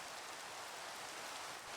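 Steady, faint hiss of rain falling in Minecraft Skyfactory, an even wash with no breaks or other sounds.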